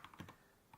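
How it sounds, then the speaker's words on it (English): Brief burst of typing on a computer keyboard, a few quick clicking keystrokes close by with a short pause in the middle, no talking. "My typing doesn't improve apparently."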